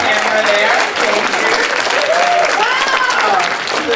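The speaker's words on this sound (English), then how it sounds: "Isabel, let's clap for Isabel" An audience in a church claps steadily with loud, sustained applause, while a voice speaks over the dense clapping.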